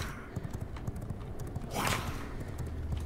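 Horse hooves clip-clop at a steady gallop in the V Rising game, a continuous rhythmic beat of close, evenly spaced strikes with a brief rushing swell partway through.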